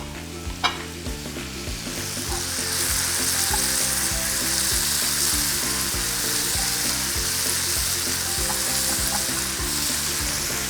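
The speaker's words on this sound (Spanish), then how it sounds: "Les voy a sofreír hasta que veo que cogen un color doradito" Peels sauté in a hot pan until golden and nearly dried out, giving a loud, dense, continuous sizzle and crackle that swells after a brief quieter start and holds steady, with no talking.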